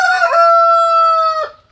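A rooster on a rural farm crows once, loud and close: a single drawn-out cock-a-doodle-doo that holds steady before breaking off.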